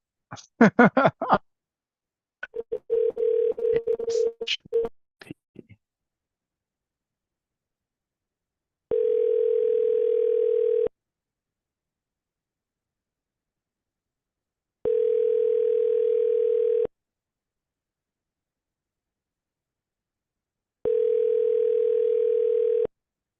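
Telephone ringback tone on an outgoing call: three evenly spaced, steady two-second tones with silence between, following a brief burst of muffled speech at the start.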